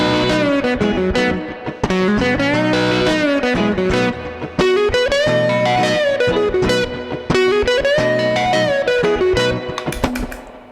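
Electric guitar plays a country-flavored blues rock lick built on the major pentatonic scale, a fluid run of single notes with bends, clear and upfront with a lightly driven tone and no talking.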